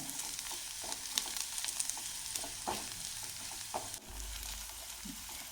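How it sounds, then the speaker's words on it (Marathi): Thin slices of coconut sautéing with onion in a pan for Kolhapuri misal, a steady close hiss of frying with light, intermittent stirring taps. "मी ते पण आता याच्यातच परतून घेऊया कांद्याबरोबर हे पण एक मिनिटभर आपण परतून घेऊया"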